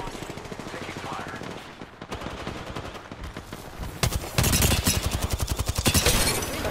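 Rapid automatic gunfire fills a round of the video game Apex Legends as repeated dense bursts that grow louder and heavier toward the end, layered with other game sounds.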